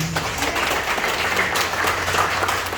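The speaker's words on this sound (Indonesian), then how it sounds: "Tepuk tangan untuk nama Tuhan." Sustained applause from a church congregation at a worship service, steady and fairly loud, with a faint murmur of voices underneath.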